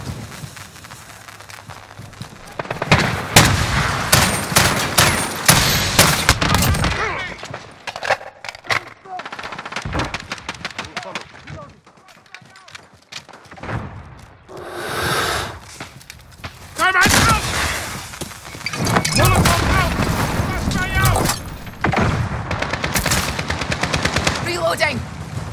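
Gunfire in the Call of Duty: Modern Warfare video game: loud rapid bursts of automatic fire and scattered single shots, with brief lulls between volleys and game voices speaking over parts of it.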